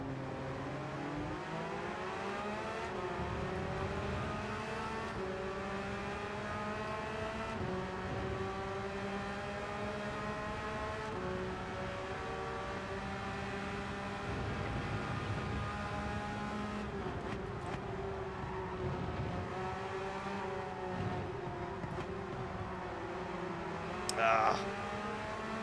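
A Porsche race car engine in Gran Turismo 7 whines loudly and steadily throughout, its pitch climbing and then dropping back as the revs rise and the gears change.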